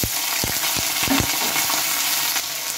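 Cauliflower florets fry in hot oil in a wok, a steady close sizzle with scattered crackles and a few stirring scrapes and knocks, no voices.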